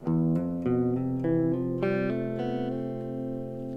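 Clean guitar notes ring out over a held chord, new notes sounding in quick succession as if hammered on, with a sustained fade at the end.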